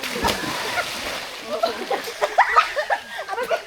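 Someone jumps into the sea and splashes, with sloshing water, laughter and voices close by.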